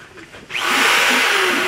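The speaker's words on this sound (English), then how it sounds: "we're making drill holes here" A power drill boring holes in material while an Ipu Heke is being made, starting abruptly after a moment of quiet and then whining loudly and steadily up close.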